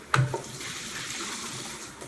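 Hot tap water runs into a kitchen sink as chiles are rinsed under it, starting with a sharp splash and clunk, then a close, steady hiss.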